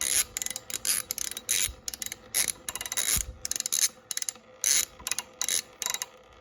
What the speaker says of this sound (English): you want to loosen that bolt right up.